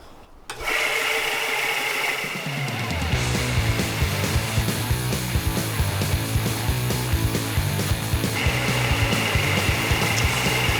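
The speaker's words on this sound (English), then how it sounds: "so I'm going to sand this just a tiny bit more." A sandal sole being sanded on a power sander, which spins up after a moment into a loud, steady whirring grind with a rough rasp that carries on without a break.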